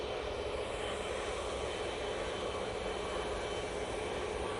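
Ryanair jet from Gdansk arriving at Manchester Airport, a faint, distant steady engine rush sustained evenly across the whole clip with no other sounds.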